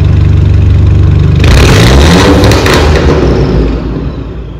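A modified Mercedes C250 AMG W204 engine with aftermarket exhaust idles with a deep rumble, then revs hard into a loud, raspy roar before easing back down, close and with no talk.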